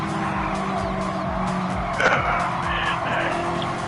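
Race car tires squealing and skidding in Gran Turismo 7, a sustained engine drone with a sharp screech surfacing midway, steady and close with no talking.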